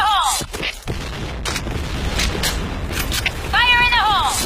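In the shooter game Point Blank, a grenade blast and bursts of gunfire crack and boom loudly in quick succession, while a game voice calls out over the action.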